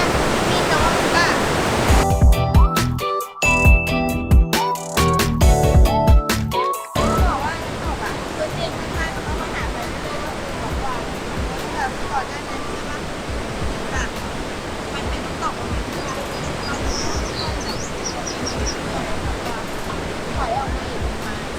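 Niagara Falls, a giant waterfall, gives off a broad, steady roar of rushing water that fills the whole scene, with a short burst of music near the start and no clear talking over the constant wash.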